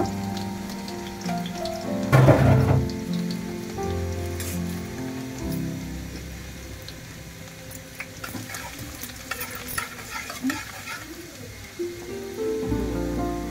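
Minced garlic browning in oil in a pan gives a steady, close sizzle, with a louder burst of crackling about two seconds in and light stirring clatter later. No one speaks.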